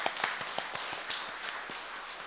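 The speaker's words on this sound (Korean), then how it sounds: "우리와 함께 하신 하나님 감사의 박수를 올려드릴까요?" A congregation at an early-morning worship service claps in thanks, a steady run of sharp, evenly spaced claps with no voices over them.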